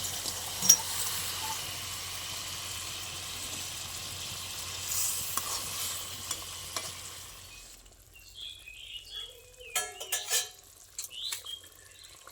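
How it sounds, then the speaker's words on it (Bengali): Fried chanda fish pieces are lowered into a boiling curry in a pan, giving a steady sizzle and bubbling that drops away midway, followed by scattered clinks and soft splashes of the fish going in. "এবার আমি জল দিয়ে দেবো আমার ঝোলটা ফুটে গেছে এবার ভেজে রাখা মাছগুলো দিয়ে দেবো"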